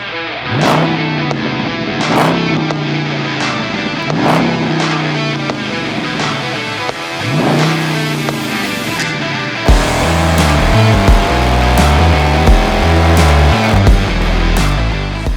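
A Dodge Charger 392 V8 with a loud aftermarket exhaust rumbles while driving, revving repeatedly with rising and falling pitch, then settling into a deeper, steadier drone, with no talk.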